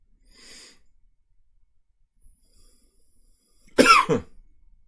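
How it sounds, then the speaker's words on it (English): A single harsh, close cough bursts out near the end after mostly quiet, with only a faint breathy rustle earlier. "I started developing sort of asthmatic cough."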